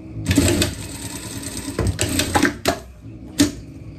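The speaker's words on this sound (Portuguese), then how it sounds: "passar um 3 pontos, né, na costura aqui, pra dar um acabamento melhor" A sewing machine runs close and loud, stitching a three-step zigzag along a fabric seam of a small pet pajama. The motor buzzes in bursts separated by short pauses. No one talks.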